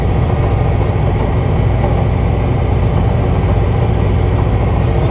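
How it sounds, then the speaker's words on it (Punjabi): Tractor engine idling steadily in a wheat field during sowing, a continuous low, even rumble held close and constant throughout, with no talk. "ਹੁਣ ਸਾਹਮਣੇ ਜੋ ਇਹਦਾ ਟਰੈਕਟਰ ਖੜੇ ਵਾ"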